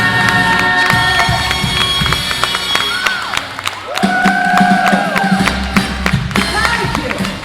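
An audience at a lively evening event cheers and claps. Loud crowd noise with shouts and whoops rises and falls over thumping and scattered clapping, and voices call out throughout.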